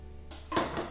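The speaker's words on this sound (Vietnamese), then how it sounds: "Bây giờ mình bắt cái nồi lên ha." A metal cooking pot is set down on a stove in a home kitchen, giving one short clank with a brief metallic ring over quiet room noise.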